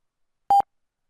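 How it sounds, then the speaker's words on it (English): A single short computer beep played by C# Console.Beep, one clean steady tone lasting about a tenth of a second, alone in silence. "So console.beep, and it will be very hard for you to hear, but I assure you it is there."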